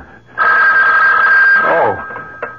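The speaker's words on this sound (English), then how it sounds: "The phone." A telephone bell rings loud and steady in an old radio drama, a sustained electric ring with a short second burst after a pause.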